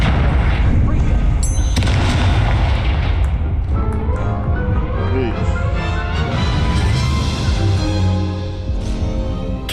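The Incendio fire spell is cast in a Harry Potter video game, giving loud booming fiery bursts layered over dense game music and effects throughout, with a sharp onset near the start.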